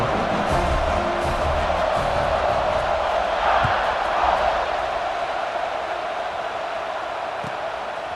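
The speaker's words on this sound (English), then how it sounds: "They're set to kick it off, and this crowd now ready to get behind them." A stadium crowd before kickoff in the EA Sports College Football 26 video game makes a dense, continuous roar of cheering that swells slightly midway, loud and unbroken.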